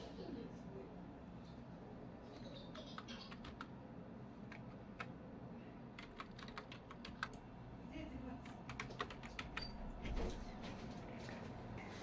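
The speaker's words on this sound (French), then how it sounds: "Je vais tout simplement entrer mon login que j'ai créé tout à l'heure et mon mot de passe pour ouvrir ma session" Typing a login and password on a computer keyboard to open a session, scattered soft key taps at close range over a faint room hum, growing busier toward the end, with no voices.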